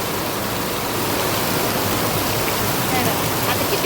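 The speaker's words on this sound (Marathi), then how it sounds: "आणि पाऊस पण लय असा फुल चालू आहे" Heavy monsoon rain pours steadily as a loud, dense, unbroken wash of noise filling the whole clip; no thunder stands out.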